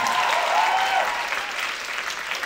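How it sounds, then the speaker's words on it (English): A conversation event audience gives a round of applause, a dense, steady patter of many clapping hands that holds loud and even for a couple of seconds before easing slightly. "That deserves a bigger round of applause."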